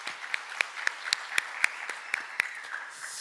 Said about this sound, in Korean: 우리 하나님께 영광의 박수를 돌려드립니다